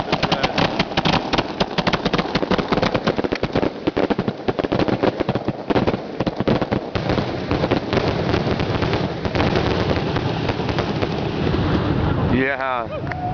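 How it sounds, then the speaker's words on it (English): Fourth of July fireworks in Globe, Arizona, lit from a fuse, crackling and booming in a dense, loud barrage of rapid bursts, with a rising whistle near the end. "And fireworks is lit."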